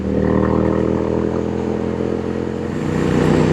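A Triumph Street Twin 900 custom motorcycle engine drones steadily and loudly while riding on the road, a constant low, throaty rumble with no talk.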